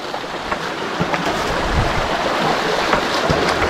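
Water rushes steadily through a gold-prospecting sluice set on bedrock, a dense, even wash of splashing and gurgling heard up close with no voices.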